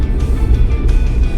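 Inside the cabin of a Suzuki Jimny Sierra on the move, a steady low engine whir and drone fills the space, loud and constant with no talk over it.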